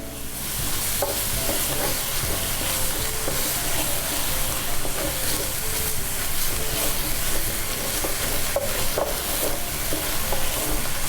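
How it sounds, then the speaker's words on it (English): Three minced garlic cloves sizzle in a pot for lasagna soup, making a loud, continuous crackling fry close up with light stirring scrapes mixed in, no one talking. "Then I'm going to add 3 minced garlic cloves,"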